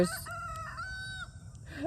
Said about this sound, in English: there's a rooster somewhere down the road that's crowing too